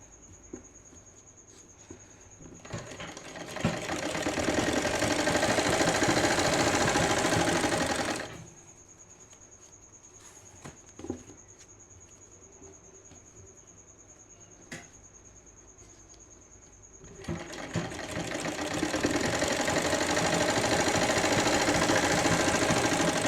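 A sewing machine stitches elastic onto a small girl's dhoti salwar, running in two long loud whirring bursts separated by a quiet pause with a few soft clicks of handling.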